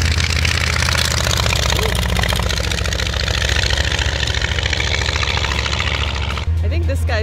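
Vintage airplane engine droning steadily at a small-town fly-in, a loud, low, continuous propeller roar throughout, with people talking over it and the engine noise dropping away near the end.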